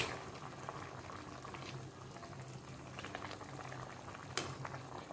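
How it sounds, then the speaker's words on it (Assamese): Mutton pieces boiling in water inside a covered pot for an Assamese mutton curry, a steady close bubbling and simmering with a few sharper pops, continuous and fairly quiet with no talk. "দেখিছে মাংসখিনি ধুনীয়াকৈ উতল আহিছে আৰু সিজিও গৈছে।"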